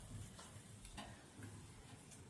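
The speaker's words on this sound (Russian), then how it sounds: "И вот я положил сало. И оно здесь будет жариться." Quiet steady sizzling of pork fat (salo) frying in a hot pan, with faint crackles and occasional soft scraping, close up and without talk.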